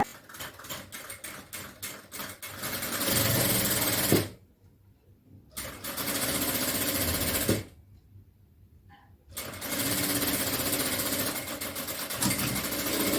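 A sewing machine runs in long steady stitching bursts while a tailor sews fabric, halting twice for a few seconds of near silence before starting again, loud and close.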